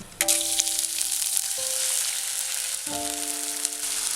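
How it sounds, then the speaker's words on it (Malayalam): Rice sizzles and fries in hot ghee with cloves, cardamom and bay leaf, a steady broadband crackle throughout, with faint tonal hums from the kitchen in the background and no talking. "ഇനി ഈ അരി ഒന്ന് ഈ നെയ്യിലിട്ടിട്ട് ഒന്ന് ചെറുതായിട്ടൊന്ന് ഫ്രൈ ചെയ്തെടുക്കണം."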